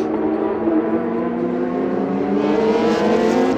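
A Porsche GT3 Challenge race car on the Algarve circuit in Portugal howls past with a steady, loud engine note that rises slightly in pitch, alone and without talk.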